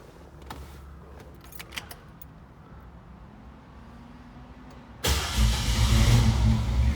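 A few faint clicks and jangles, then a restored 1971 Ford Bronco half cab's engine cranks and catches, settling into a loud steady idle.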